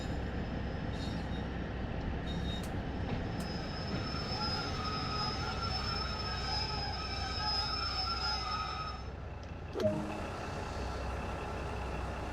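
A Class 150/2 diesel unit from Train Sim World 2 pulls into Penzance station, a steady rolling rumble topped by a long sustained wheel squeal, then a clunk as it stops.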